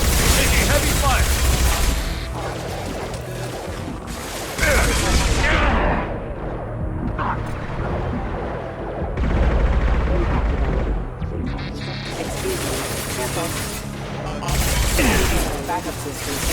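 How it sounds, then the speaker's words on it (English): Heavy gunfire and booming impacts in the sci-fi shooter game Mass Effect 2, coming in dense, loud bursts separated by quieter gaps, with voices speaking over the combat. "Taking heavy fire!"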